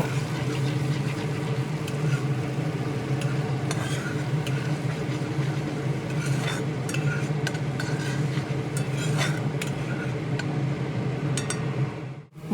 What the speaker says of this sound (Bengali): পেস্ট লেগে থাকা বাটি ধুয়ে সামান্য জল দিয়ে ভালোভাবে নেড়ে চেড়ে কষিয়ে নেব